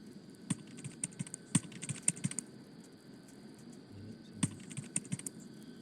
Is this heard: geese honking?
no